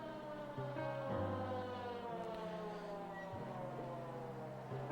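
A wailing siren-like tone sits in the music of a song, blended with piano and sustained synth layers at a moderate, fairly soft level.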